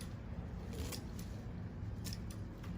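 A few short, crisp snips of homegrown celery stalks being cut off the plant, close and quiet, with no talking.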